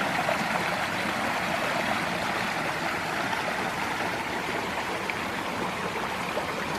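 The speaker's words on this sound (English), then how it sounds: "The sound of water, I love it." A creek on rural property flows steadily, a dense, even rush of water heard close and alone for several seconds.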